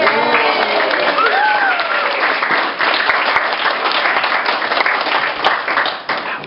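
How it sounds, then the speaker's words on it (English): Wedding guests in the Bahamas burst into steady, loud applause during the speeches, a dense wash of many hands clapping close by, with a brief voice rising over it before it tapers at the end. "So, round of applause to Lindsay"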